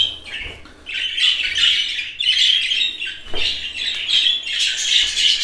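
Young budgerigar chicks squawk in harsh, raspy bursts, several close-up calls repeating in uneven clusters with brief gaps between them.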